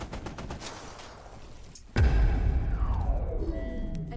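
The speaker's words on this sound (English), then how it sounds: "That's a turret." Sustained automatic turret fire in the shooter game Level Zero: Extraction, a rapid rattling burst that starts abruptly and keeps going loud and close, with no talk over it.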